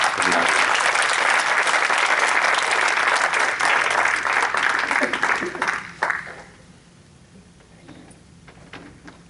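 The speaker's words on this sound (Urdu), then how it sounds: "آپ کی تالیوں کے ساتھ" Audience applause at an Urdu literary evening, a dense, loud burst of clapping that fades away in the last few seconds before a speaker resumes.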